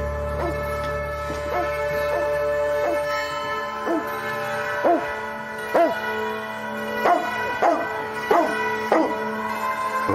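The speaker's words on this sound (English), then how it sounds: "As the dog was making a lot of noise with us" A single dog barks, yips and whimpers in short repeated bursts against a steady low hum, loud and close, growing more frequent toward the end, with no talk.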